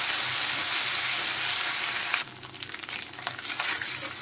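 Ginger and green chili paste frying in oil with turmeric, a steady close sizzle that breaks into crackling, uneven spitting partway through as the paste is worked in the pan.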